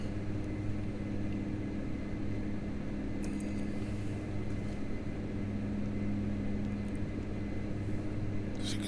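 Dash-8 turboprop engines in a Prepar3D cockpit with the throttles eased back, a steady low drone with constant hum tones throughout, faint and unbroken, with no talking.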